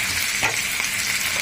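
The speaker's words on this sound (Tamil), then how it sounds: "பொரிக்கும் போது ஆயிலில் போட்டுட்டு இமீடியட்டாக நீங்கள் வந்து டேர்ன் பண்ணக்கூடாது" Rohu fish frying in oil, with a loud, continuous sizzle and crackle that swells briefly partway through, and no voices.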